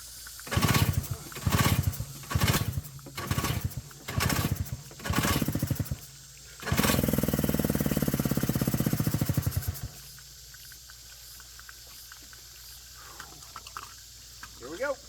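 An old outboard boat motor, idle for 20 years, is cranked in several rhythmic pulls, then fires and runs loudly for a few seconds before dying to a quieter rumble, with voices talking over it.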